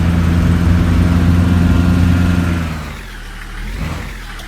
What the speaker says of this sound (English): Do you think that engine was sounding a bit rough then?